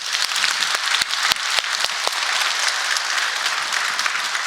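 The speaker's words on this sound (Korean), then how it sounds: "모든 영광을 하나님께 박수하겠습니다" A church congregation claps in a sustained round of applause, fairly close and even, with a few sharper individual claps standing out near the start.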